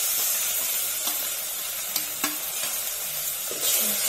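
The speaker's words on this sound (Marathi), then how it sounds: "त्यानंतर हा आपण मसाला टाकून घेऊया जो वाटून घेतला आहे तो।" Ground masala paste and besan sizzling in hot oil for a homestyle Maharashtrian misal gravy, with a steady close frying hiss broken by a few soft scraping stirs of a spoon in the pan.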